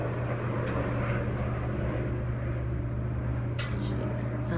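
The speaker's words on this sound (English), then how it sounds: "You hear that plane flying over my house?" A propeller or jet airplane passes over a house, giving a steady, broad low rumble that fills the whole stretch at moderate loudness, with a few brief higher sounds near the end.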